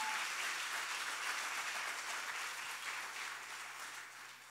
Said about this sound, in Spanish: Dale un aplauso, vamos.